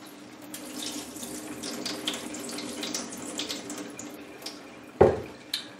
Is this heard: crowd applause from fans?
no